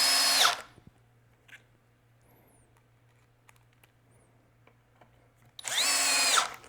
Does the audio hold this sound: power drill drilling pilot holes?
yes